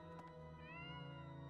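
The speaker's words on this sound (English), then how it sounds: "Stop bullying those cats." A cat meows in the Fire Emblem: Three Houses video game, a single drawn-out rising call over steady game background music, quiet in the mix.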